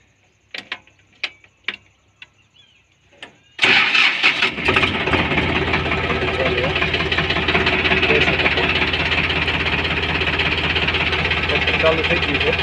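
An Eicher 557 tractor engine cranks and catches after a few short clicks and knocks, then settles into a loud, steady diesel roar close by.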